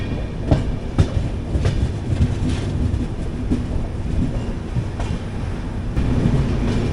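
Kannur Express passenger train rolling into Mangaluru Central station, heard from inside an AC coach: a constant low rumble with repeated clickety-clack wheel beats over rail joints, loud and close, no talk.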